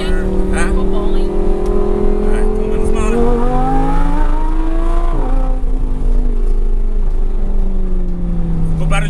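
An Audi R8 with a modified exhaust revs loudly, a sustained engine drone rising and falling in pitch with a sharp surge midway, heard close and continuous while people talk over it.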